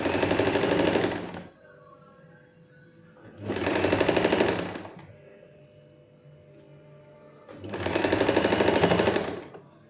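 A sewing machine stitches a fabric border onto a sleeve in three loud, steady bursts of rapid needle chatter, each lasting one to two seconds, separated by quiet pauses.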